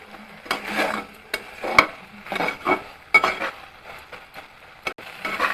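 Shidol chutney with tomatoes sautéed and stirred in a pan, irregular scraping strokes and light clinks of a spoon against metal over a soft sizzle, close and repeated; no speech.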